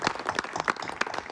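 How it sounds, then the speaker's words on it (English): An audience in a town hall meeting gives a brief round of applause for the sound desk operator, scattered claps at moderate volume filling the room. "Dara Burke on the sound desk, would you give him a round of applause?"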